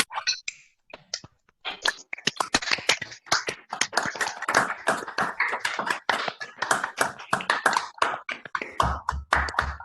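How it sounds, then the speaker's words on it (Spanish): Applause from a small online class group over open microphones, quick uneven claps from several people, some close and sharp, running continuously with brief gaps and no talking. "encender los micrófonos un segundo para darle un aplauso"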